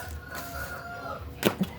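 Chicken sounds in a quiet setting, with faint low clucks and then two short, sharp squawks close by near the end.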